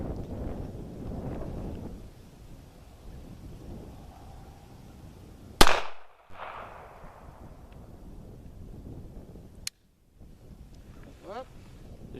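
A Bulgarian Makarov pistol in 9x18 caliber fires two sharp, loud shots several seconds apart outdoors, with wind rumble and faint voices between them.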